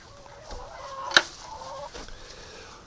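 Chickens cluck softly around a laying area where eggs are collected, with one sharper squawk partway through, fairly faint and without talk.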